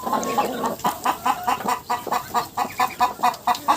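Hens cluck rapidly and agitatedly in a quick, rhythmic series of squawks, sounding like a close-up squabble in a coop.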